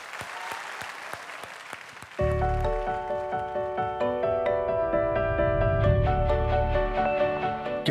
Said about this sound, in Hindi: तो जोरदार तालियों से स्वागत करते हैं आमची मुंबई की जोया शेख का